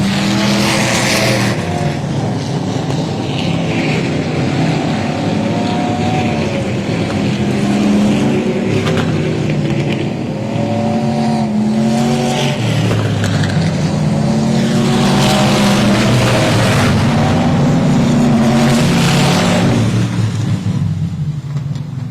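Dwarf race cars roar around the Texana Raceway Park oval in a continuous loud pack of engine noise, revs rising and falling as cars pass, with occasional tire squeal and no talking.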